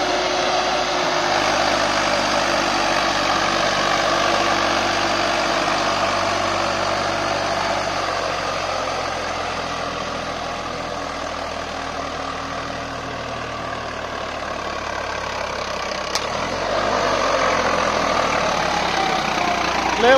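A Swaraj 855 FE tractor engine runs steadily under heavy load, a loud, continuous mechanical drone with a low rumble close to the microphone, with no talking.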